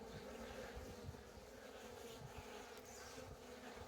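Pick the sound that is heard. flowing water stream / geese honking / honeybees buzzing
honeybees buzzing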